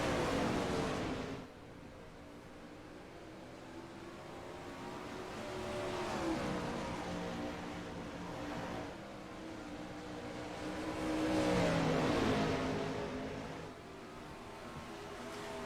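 410 sprint race cars roaring around the Williams Grove dirt track, a loud sustained engine drone that swells and fades as the cars pass, with one car spinning and recovering.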